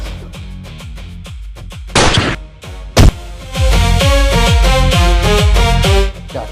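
Two sharp gunshot-like bangs ring out over loud, rhythmic background music, the second a second after the first.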